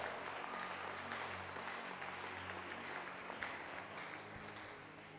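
A church congregation applauds at a sermon, a steady, even wash of clapping and crowd noise heard from some distance, fairly faint and with no clear pauses.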